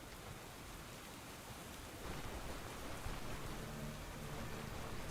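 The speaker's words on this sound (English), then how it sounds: "Now it's raining outside." Steady rain falling in Stoneshard, a dense even hiss of drops that thickens slightly partway through, heard alone with no voices.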